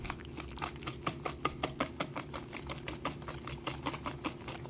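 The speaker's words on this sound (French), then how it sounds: "dans le saladier, je mélange au fouet ou dans un robot le sucre et le beurre" Butter, sugar and egg whisked by hand in a mixing bowl for a raspberry yogurt galette des rois, a fast regular clatter of wire whisk strokes against the bowl, close and steady.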